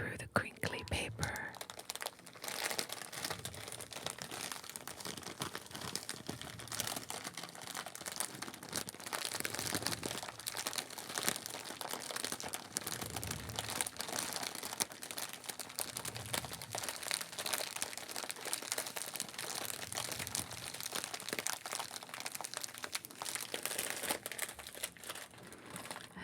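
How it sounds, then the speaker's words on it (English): A paper bread package crinkles continuously as a baker folds its ends, the rustling steady and close throughout, with soft whispering woven in. "the gentle crinkle as the baker folds the ends of the package"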